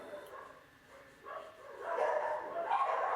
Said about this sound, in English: When one starts to bark, every single one starts to bark again.